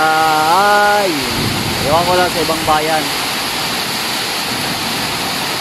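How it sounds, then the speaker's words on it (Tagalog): Heavy rain pours steadily in the town of Cataingan, Masbate, a dense and loud rush that continues throughout while someone speaks over it. "Lakas ng ulan ngayon dito sa Katayngan, sa bayan ng Katayngan, Masbate."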